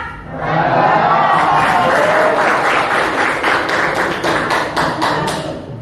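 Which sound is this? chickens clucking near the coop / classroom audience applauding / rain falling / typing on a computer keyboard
classroom audience applauding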